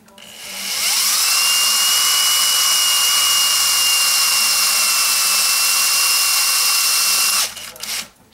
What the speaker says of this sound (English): So I'm going to go ahead and drill all these and I'll be back when the drilling is done.